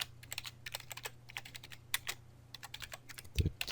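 Rapid keystrokes on a computer keyboard while entering text in Photoshop, an irregular run of crisp clicks with a brief louder thump near the end, close and alone.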